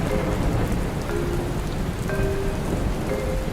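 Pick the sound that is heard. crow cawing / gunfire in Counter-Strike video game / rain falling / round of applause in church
rain falling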